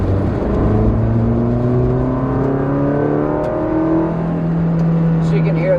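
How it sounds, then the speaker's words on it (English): Intake noise from a 2009 Nissan Cube accelerating in second gear: a steady, rising engine drone heard from inside the car, climbing in pitch with no exhaust note, loud and continuous throughout. "So you can hear that intake noise."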